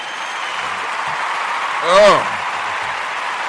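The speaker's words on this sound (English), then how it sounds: "Let's give the Ujima babies a round of applause." Steady applause from a crowd fills the background while a voice calls out briefly in the middle.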